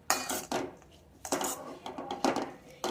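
Utensil scraping and clinking against a pan as vegetables are mixed on a switched-off stove, in several distinct bursts of metallic clatter with short pauses between, close and fairly loud, no talk.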